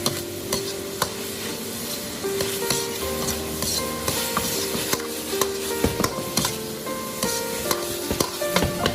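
Diced radish stir-fried in a wok, with rapid, repeated scraping and clanking of a spatula over a constant hot sizzle, loud and close with no talking.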